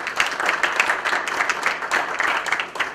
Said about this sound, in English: So let's give her and Mr. Peterson a round of applause